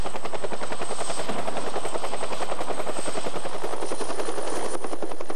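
A loud, close military helicopter with its rotor thumping in a fast, regular beat over a constant engine whine, steady throughout.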